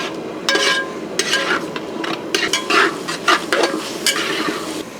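Chili and tomato masala for a Kerala-style chicken dish being stirred in a large pan, close and loud, with a constant sizzle and repeated scraping strokes of a ladle against metal in an uneven rhythm.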